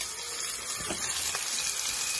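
Sliced onions frying in oil in a pan, giving a dense, even hiss of sizzling that carries on close and steady without any talk.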